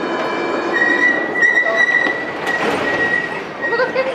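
A train pulls into a crowded station platform, giving a steady rolling rumble and sustained high wheel and brake squeals, with a murmur of voices from the crowd throughout.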